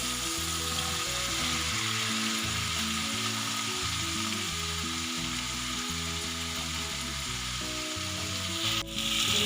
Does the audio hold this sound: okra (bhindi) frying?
yes